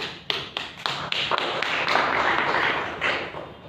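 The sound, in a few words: hand clapping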